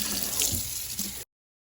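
Running tap water rinses spider-dyed fabric from a colander dye, a steady close splashing rush that cuts off abruptly after about a second.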